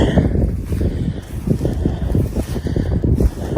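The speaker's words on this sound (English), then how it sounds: "It's still a little windy." Gusty wind buffets the microphone with low rumbling blasts that swell and fade continuously, no voices.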